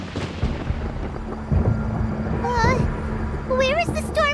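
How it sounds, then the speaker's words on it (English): Rumbling thunder in the Genshin Impact video game, a low roll building up under a child-like voice speaking, with high, wavering bird-like calls appearing later. "Paimon hears thunder!"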